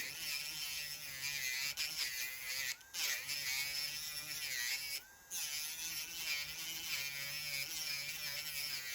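An electric nail drill fitted with a safety bit files a fingernail, giving a continuous close buzz that wavers in pitch, with two brief dips where the bit lifts away.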